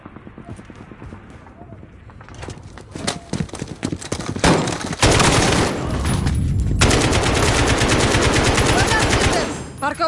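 Rapid automatic gunfire from the Call of Duty: Modern Warfare (2019) campaign mission Captive breaks into dense, sustained bursts after scattered shots and game sounds, loud and continuous before cutting off near the end, with speech also present.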